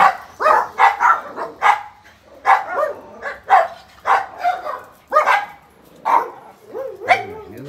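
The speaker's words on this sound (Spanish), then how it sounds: "vamos a empezar a ladrar porque ahí va el vecino con su perrito" A dog barks repeatedly in sharp, irregular bursts, close by, at a passing neighbor's small dog, with a brief whimper near the end.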